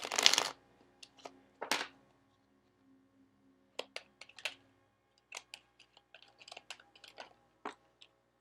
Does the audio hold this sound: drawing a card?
yes